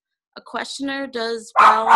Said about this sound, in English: oops, sorry about the dog